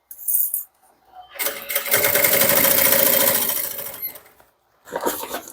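Sewing machine stitching a straight seam on soft, pliable synthetic fabric for a bag, one sustained mechanical whirring run of about two and a half seconds with rapid needle chatter, framed by short rustles and handling sounds.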